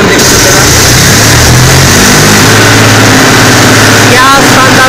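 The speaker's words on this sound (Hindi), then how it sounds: "क्या शानदार आवाज है भाइयों, अब आपको आरपीएम देख सकते हैं" A 2022 Eicher 333 tractor diesel engine idles loudly and close, a steady low rumble that dips near the end.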